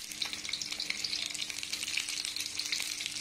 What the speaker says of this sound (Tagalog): nilagay na po natin yung bawang. Sunod natin kaagad ang sibuyas.